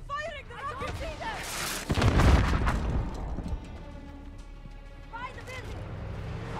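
Sniper gunfire in Call of Duty Modern Warfare combat, with a loud burst of shots and booms in the middle of the clip and chirping and battle noise around it, mixed under a talking voice.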